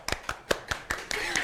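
Hand clapping during a casual Indonesian conversation: about seven quick, evenly spaced claps close by, blending into a brief patter of applause.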